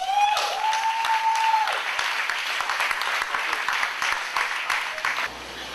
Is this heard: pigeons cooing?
no